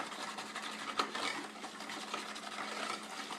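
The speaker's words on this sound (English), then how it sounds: "I'm going to take my whisk, and I'm going to whisk my pudding with my milk" A whisk stirs pudding mix into milk in a bowl, producing a steady, close scraping and swishing with a rhythmic churn that continues throughout.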